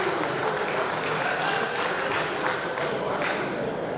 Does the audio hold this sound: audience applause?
yes